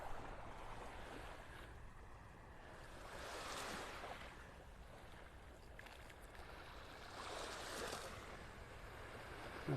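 Ocean surf on a beach in North Naples, Florida, rolling in and washing out in slow, soft swells, distant and faint, with light wind noise on the microphone and no talking.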